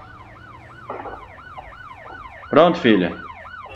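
Police car siren in the Motor Town driving game, a loud wailing tone that rises and falls in a steady repeating cycle, with a person speaking briefly over it.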